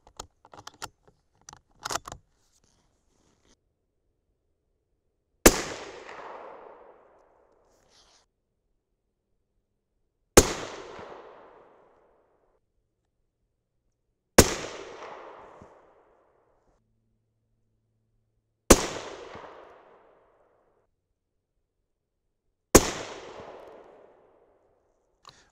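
Five sharp, loud reports from a 6.5 Creedmoor rifle firing 130-grain Sierra GameKing handloads at a 100-yard range, spaced about four seconds apart, each decaying quickly into silence, after faint handling clicks.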